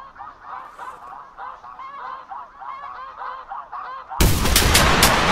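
A big flock of snow geese honks in dense overlapping calls in TheHunter Classic, a steady chorus of cackling near and far, ending in a sudden loud burst of gunfire-like noise.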